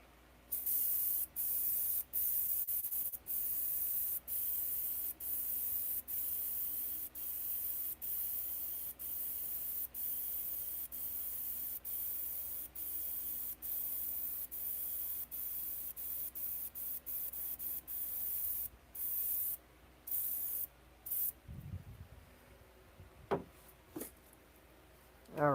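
A spray gun lays another coat on a bathtub during refinishing, hissing in a long run of short, evenly spaced bursts with brief gaps, close and steady, then sparser bursts near the end.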